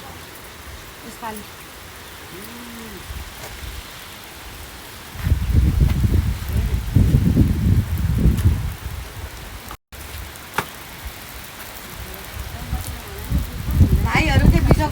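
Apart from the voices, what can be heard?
rain falling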